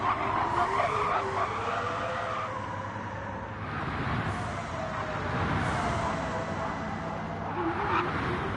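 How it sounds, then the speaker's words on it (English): Racing-car tyres squealing and skidding in a racing video game, a loud sustained screech over steady engine drone and continuing for several seconds without talk. "But the Baz's tyres pretty much starting to lose adhesion to the road."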